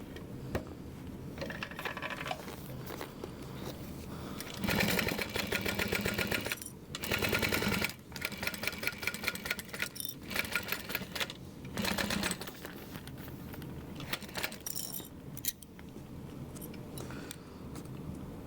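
Sewing machine stitching along a seam for a bubble bag, running in quiet bursts of rapid mechanical clatter separated by short pauses, close up and without talk.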